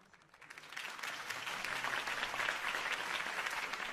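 Crowd applause greets a campaign speech in the Batman Telltale video game, building from quiet to a dense, steady wash of clapping that holds loud and unbroken to the end.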